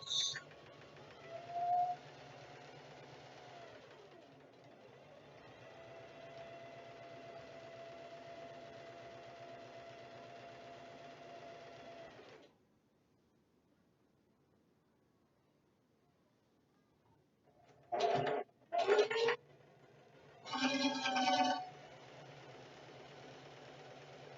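A sewing machine running a regular straight stitch on a moss bag, a steady close mechanical whir lasting several seconds before stopping, followed by a few short bursts of handling noise.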